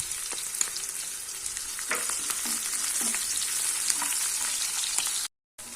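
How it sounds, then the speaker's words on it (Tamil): Shallots and whole chopped garlic sauté in hot oil in a pan for a Tamil-style cauliflower rice, with a steady close sizzle, occasional stirring scrapes and a brief dropout near the end, no talk. "இப்போ வெங்காயம் கொஞ்சம் வதங்கட்டும்."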